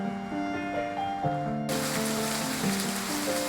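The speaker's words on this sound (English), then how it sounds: "The June rains did not let up." Rain falling in a June downpour, a dense hiss of drops that swells sharply partway through and holds loud and steady, with a faint tonal melody underneath at first.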